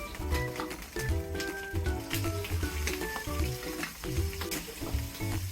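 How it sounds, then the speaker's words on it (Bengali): Pieces of catla fish frying in hot oil in a pan, a steady crackling sizzle with irregular popping spurts and occasional stirring scrapes, close and moderately quiet. "প্রথমে মাছগুলোকে আমি ভেজে নেব তেল দিয়ে দিয়েছি এবার মাছের পিসগুলোকে দিয়ে দেবো"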